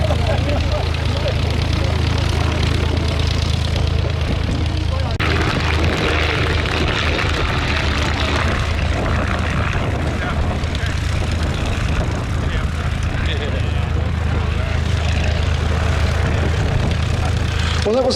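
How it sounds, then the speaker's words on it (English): Light aircraft flying very slowly near its stall speed at the Little Gransden flying display in challenging conditions, a continuous propeller engine drone sustained throughout, with wind noise and a commentator's voice over it. "it's showing how slow this aircraft can fly."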